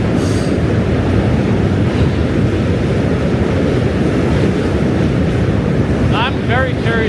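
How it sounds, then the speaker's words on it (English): A train rumbles past on a New York City walk, a loud, steady roar with heavy wind buffeting the microphone, sustained throughout, ending with a faint voice. "Another train."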